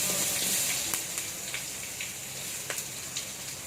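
Cumin, pepper and onion drop into hot oil and fry with a steady bright sizzle, broken by scattered crackles and pops, close and fairly quiet.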